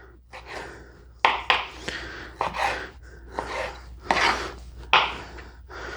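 Knife chopping beef into bite-sized pieces on a cutting board, a steady series of close, sharp chops and scraping strokes, heard alone with no talk.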